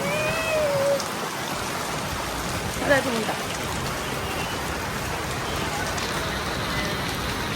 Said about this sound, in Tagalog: Malakas na yung ulan, guys.